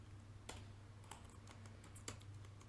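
Quiet typing on a computer keyboard, a handful of soft, scattered key clicks over a low background hum.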